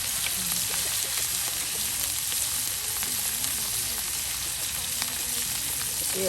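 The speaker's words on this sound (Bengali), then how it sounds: "বাহ, এই যে মাছ কিন্তু ভেজে নেওয়া হলো।" Hilsa fish frying in hot oil, a steady close sizzle and crackle that holds evenly throughout with no pauses.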